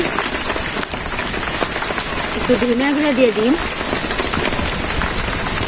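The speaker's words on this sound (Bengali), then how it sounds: "পাশে বৃষ্টি হইতেছে আর আমি এই বৃষ্টির হাওয়া রান্না করলাম।" Steady rain falls close by in a village cooking spot as a continuous broadband hiss of drops on surfaces, with a person speaking briefly over it.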